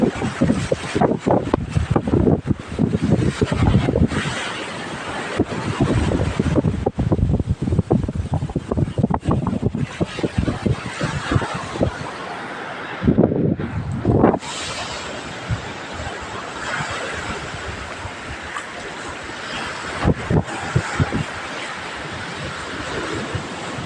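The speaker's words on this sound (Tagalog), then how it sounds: "Malakas ang hangin." Heavy seaside wind roars and rumbles across the microphone, gusting unevenly, with a brief lull partway through and a wash of large waves underneath.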